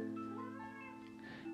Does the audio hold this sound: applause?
no